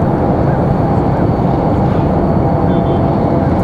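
Airliner arriving at Raleigh Durham airport, a loud, steady broadband roar that holds evenly throughout, close and unbroken, with no voices over it.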